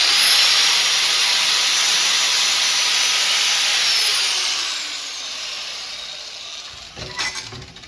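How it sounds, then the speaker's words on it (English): A cutoff wheel grinds a small flat spot on round metal with a loud, steady high-pitched whine and hiss, then winds down and fades, followed by a couple of faint clunks. "you can actually take the cutoff wheel and put just a little flat spot on here."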